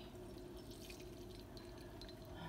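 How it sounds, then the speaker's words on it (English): French press coffee poured from the carafe into a cup, a quiet, steady trickle of liquid with faint glassy tones and no talking. "pour my coffee."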